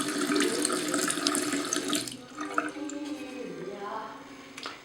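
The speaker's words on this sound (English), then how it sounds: "Italian running water." Tap water runs steadily from a faucet into a sink, a continuous splashing rush that is loud at first and then settles into a lighter trickle with a few drips.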